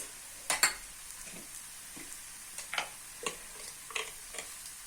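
Chillies coated in gram flour with spices cook in a pan, a quiet low sizzle broken by several close clinks and scrapes of stirring, with no voices.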